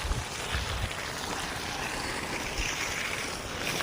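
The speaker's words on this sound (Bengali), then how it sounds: "জল সেকবো এখন, জল সেকবো।" Water is bailed out by hand in a continuous, close, rushing and splashing wash of sound, with no talking during the clip.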